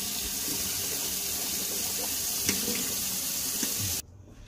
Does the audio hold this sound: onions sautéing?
no